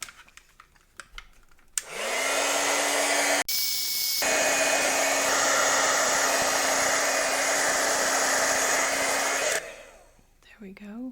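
A heat tool melts embossing powder on a handmade card, a loud steady blowing roar that switches on after a quiet moment, runs for about eight seconds and then cuts off.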